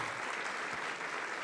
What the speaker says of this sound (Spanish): merece un aplauso el Señor